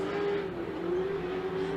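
A Pro2 off-road race truck engine at Victorville holds a steady, loud, droning rev under throttle, a continuous close roar with no pauses or voices.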